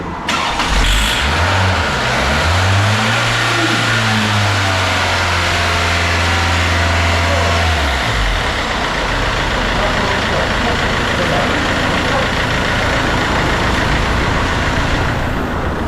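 A Mercedes-Benz C204 engine cranks and catches on its first start, then settles into a steady loud idle in a workshop, with a voice speaking over it.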